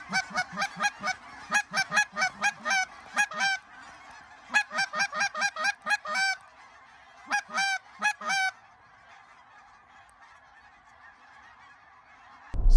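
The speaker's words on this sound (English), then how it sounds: "So we got these geese coming in close." A flock of geese coming in close to land during an Oklahoma goose hunt, loud repeated honking in bursts that fades away, then silence with a sudden thump at the very end.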